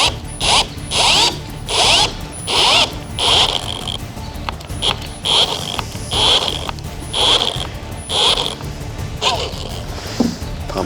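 A power drill driving a screw extractor into a broken bolt hole while building an off-road Porsche, running in repeated loud bursts of whining and grinding separated by short pauses, close to the microphone.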